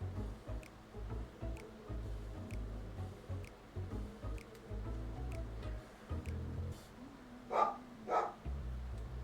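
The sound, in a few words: dog barking in another room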